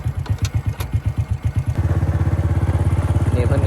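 A motorcycle rides through a rural Thai village, its engine thumping in a steady rhythm close by. The beat slows, then speeds into a faster, even patter as the bike picks up pace.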